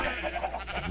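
A sheep in a video game bleats once, a short wavering cry that is moderately faint and lasts about a second.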